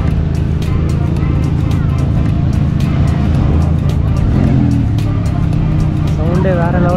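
Supercars idling and revving at a Dubai car gathering that includes a Ferrari: a loud, continuous engine roar with people talking over it throughout.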